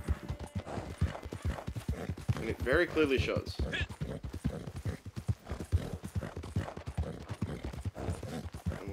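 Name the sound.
horse hooves clip-clopping while riding in video game Red Dead Online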